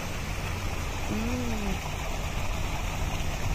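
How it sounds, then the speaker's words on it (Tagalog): Steady broadband rush of stream water flowing at the Porca Pass in canton Valais, Switzerland, a constant close wash with no speech over it. "Maririnig mo lang tubig. Lagaslas na tubig."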